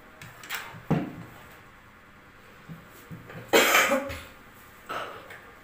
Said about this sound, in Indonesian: Ada yang batuk guys